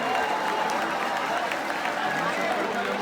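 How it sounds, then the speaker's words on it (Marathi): Crowd applause at the Mumbai Cha Raja 2026 padya pujan ceremony in Ganesh Galli, Lalbaug: dense, steady clapping from a large gathering that holds at a constant level for the whole stretch. "एकदा जोरदार टाळ्या झाल्या पाहिजेत."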